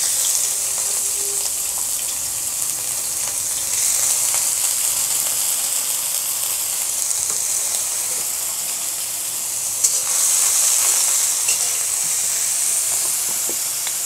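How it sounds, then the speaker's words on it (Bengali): Prawns frying in hot oil in a wok, an even hissing sizzle that carries on steadily throughout, with a few faint stirring clicks and no talking. "এই তেলের ভেতরে আমি চিংড়ি মাছগুলো ভেজে নিব।"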